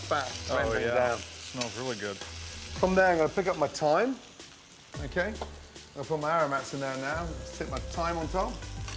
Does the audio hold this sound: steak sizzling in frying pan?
yes